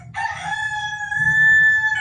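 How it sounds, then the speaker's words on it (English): A rooster crows once in a long, clear, drawn-out call outdoors, loud and fairly close, with a low rumbling background beneath it and no speech. "Yeah, he's behind me today. I don't know how that happened. But anyway, that's Mr. Rooster"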